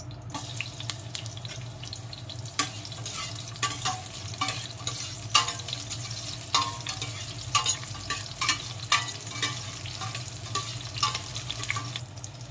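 Onions fry in a pan for native chicken sinampalukan, with a constant crackling sizzle under repeated sharp scrapes and clinks of stirring, close and moderately loud throughout.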